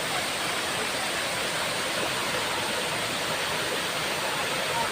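A steady, loud rush of a monsoon-season waterfall, broad and unbroken from start to finish, with no other sounds standing out.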